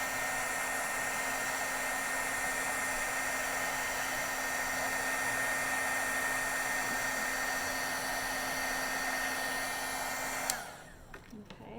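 A heat embossing tool blows hot air over embossing powder with a steady, loud whirring drone and a faint high whine, running unbroken for about ten seconds before switching off abruptly.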